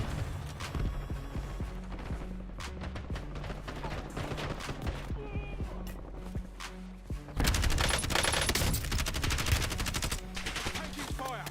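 Rapid bursts of automatic gunfire and single shots fill a military shooter battlefield, dense and close, intensifying in the second half with mechanical clatter between volleys.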